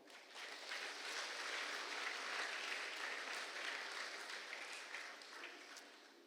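Audience applause at a prayer gathering, a steady wash of many hands clapping at moderate distance, sustained for several seconds before tapering slightly.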